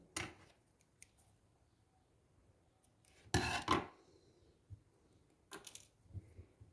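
Scissors snipping thread while making Turkish needle lace, a few brief, quiet crisp cuts separated by near silence, with one louder cluster midway and another near the end.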